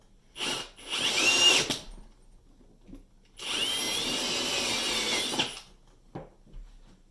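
Power drill with a bit boring through a plastic enclosure, two loud whining bursts of cutting separated by a short pause, with faint handling clicks before and after.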